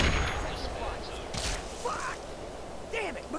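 Gunfire from an enemy sniper in the video game Fallout 3: sharp shots crack over a constant battle din, with in-game voices speaking.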